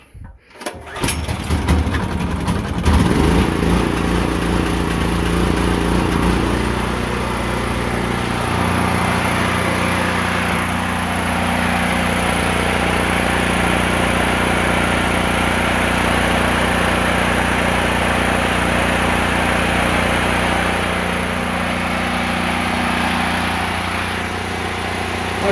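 Gasoline generator with a repaired gas tank, started on choke, catches after a brief crank and then runs loudly and steadily at close range, its engine note settling for the rest of the run.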